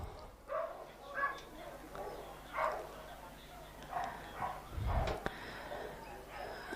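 A working sheepdog barks repeatedly in short, spaced bursts during a large-class Nations Cup final agility run at the International Agility Festival, fairly distant, beneath steady commentary.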